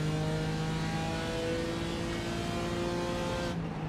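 An IndyCar race car engine at a California track holds a high, steady whine with sustained harmonic tones, loud and near, fading abruptly near the end, with no talk.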